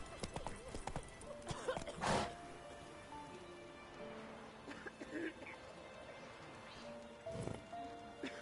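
Hooves of a horse in The Witcher 3 clatter in a steady gallop, moderately close, with a couple of snorts or whinnies and faint rain-like ambience in the background.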